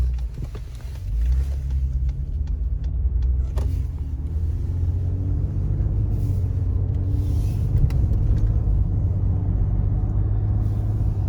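Ford F-150 Raptor on big aggressive tires cruising in normal mode, a steady low engine and road rumble heard from inside the cab, even and unbroken throughout, with no talking.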